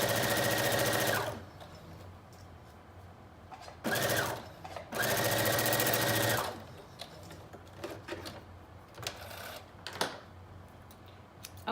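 A serger runs in three loud, close bursts while finishing the side seams of a knit New Look 6298 dress, with quieter handling sounds and brief clatter between the runs.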